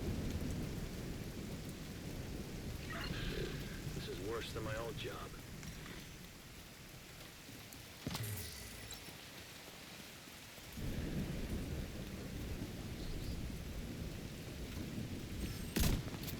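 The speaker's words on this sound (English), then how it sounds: "Yeah, this is some thick-ass rain." Heavy rain and rolling thunder in the video game The Division 2, a constant dense downpour with thunder cracks around 8 and 16 seconds, while someone talks briefly over the storm.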